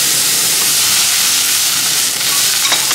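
Maitake mushrooms sear undisturbed in a hot frying pan, giving a loud, close, continuous sizzle and crackle with a few sharper pops near the end.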